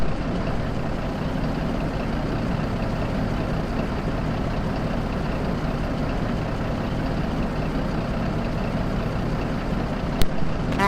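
A Kenworth W900 truck engine in a video game drones steadily at close range, a continuous low rumble with no talking, and a brief sharp click near the end.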